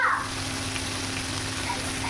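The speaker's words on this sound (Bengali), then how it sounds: "চিংড়ি মাছটাও ভেজে নেব।" Prawns frying in oil in a pan, a steady close hiss and crackle that holds evenly throughout.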